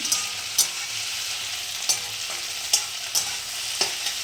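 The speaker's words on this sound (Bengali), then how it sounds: "রান্না করছি ভেন্ডি ভাজা মানে ভেন্ডি দিয়ে আলু দিয়ে পেঁয়াজ দিয়ে" Okra, potato and onion fry in a pan with a constant hiss, broken by about six sharp scrapes and clinks as a spatula stirs them.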